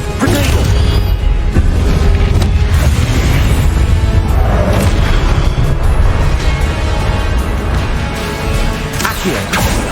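A Grenado explosive spell in Hogwarts Legacy detonates amid dense, loud combat noise. Booming bursts and crashing impacts rumble continuously with a heavy low end, and a voice talks briefly under the din.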